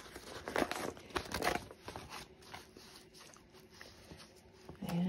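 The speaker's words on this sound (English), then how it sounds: "And now we can go ahead and tear away the tear away" Tear-away embroidery stabilizer ripped from stitched fabric, a few papery tearing and crinkling bursts close by, louder at first and then softer fiddling.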